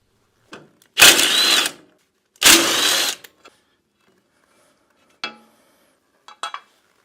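Someone removes the two 9/16-inch bolts and the lower PTO guard from a John Deere 400 garden tractor. Two close bursts of a power tool whirring are followed by scattered metallic clanks and taps.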